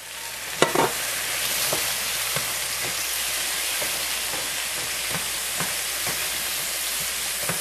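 Onions fry in a pan as a splash of low sodium beef broth goes in, a sharp burst of sizzle followed by steady bubbling and repeated light scrapes of stirring.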